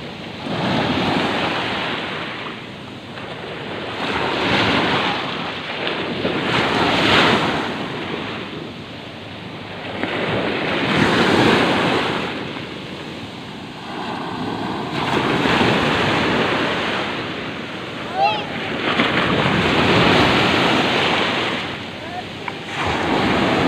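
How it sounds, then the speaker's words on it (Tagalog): Ocean waves roll and crash in slow surges, with heavy wind buffeting the microphone and faint voices in the background. "lumaki-laki na yung alon"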